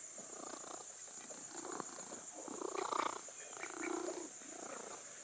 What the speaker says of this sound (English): He's got his purr box on.